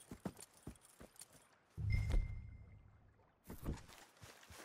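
Horse hooves clip-clop in Red Dead Redemption 2 as mounts are fetched during a giant boar hunt: quick, close hoof taps open and close the clip, with a louder low rumble and thud in the middle.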